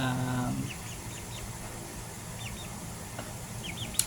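Young chicken chicks, broiler and leghorn crossbreeds, peep in a hatching setup, with several faint high chirps scattered over a low background hum after a brief murmur at the start.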